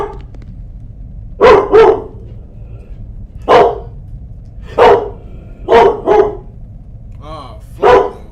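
A dog barks in short bursts of one or two sharp woofs spaced irregularly over several seconds, fairly close and loud, against a low background hum, with no one talking.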